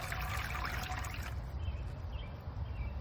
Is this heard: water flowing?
yes